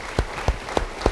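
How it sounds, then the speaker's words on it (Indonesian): Four sharp, evenly spaced claps ring out in a church congregation after a sermon, loud and close with brief gaps of room sound between them. "Beri tepuk tangan bagi dia."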